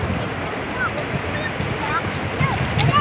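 Sea waves wash onto the shore at Sabangan Beach in Lingayen, Pangasinan, at low tide: a steady, close broadband surf rush mixed with wind buffeting the microphone, with brief faint sounds on top.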